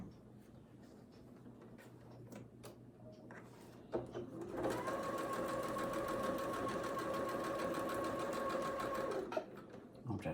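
A domestic sewing machine stitches quilt block fabric for a churn dash block: a few faint handling taps, then a steady whirring run of rapid stitching for about five seconds that stops abruptly, close and fairly loud.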